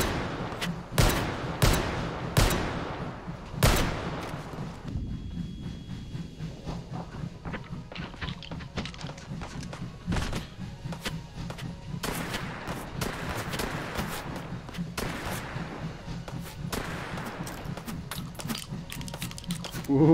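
Gunfire in the VR shooter Hot Dogs, Horseshoes & Hand Grenades: sharp, loud shots crack in quick clusters, with spaced single reports in between, over a low steady background hum.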